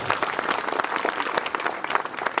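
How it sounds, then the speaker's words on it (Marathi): Audience applause at a Gudi Padwa lecture gathering, a dense, loud, sustained round of clapping from a crowd throughout. "त्या दोघांसाठी जोरात टाळ्या वाजवा"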